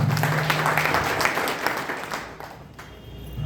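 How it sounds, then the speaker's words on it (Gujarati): A burst of audience applause at a Gujarati poetry gathering, many hands clapping together, loud at first and then tapering off. "એટલે પોતાના માટે એકવાર પહેલા તાળી પાડો જોરદાર"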